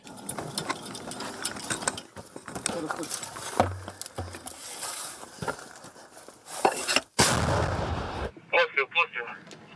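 Heavy booming blasts of Ukrainian artillery fire ring out in combat amid background noise and voices, the loudest deep boom near the end followed by quieter talk.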